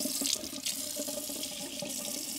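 A tap runs steadily for a couple of seconds as water fills or splashes into a sink for rinsing the mouth, close and continuous.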